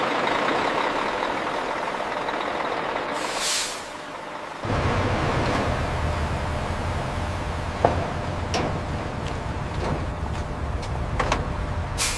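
A truck engine idles at a cigarette factory loading area, a low steady rumble joined by an abrupt louder surge partway through. Scattered clanks and short hisses follow.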